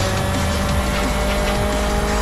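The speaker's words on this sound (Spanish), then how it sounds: "conduciendo este auto deportivo del Hombre Araña" A classic Spider-Man-themed sports car drives in a stunt racing video game, its engine giving a steady, continuous drone that stays loud and unbroken throughout, with no voices.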